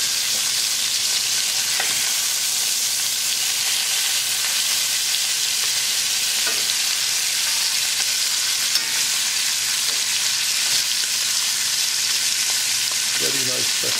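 Lamb chops frying in a pan, a steady, loud sizzle and crackle running continuously throughout, with a few faint clinks and no talking.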